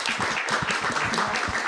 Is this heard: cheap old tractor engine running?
no